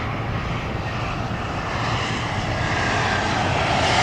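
A steady jet engine roar from a passing American Eagle regional airliner at Los Angeles airport, broad and constant, swelling slightly louder toward the end at moderate distance.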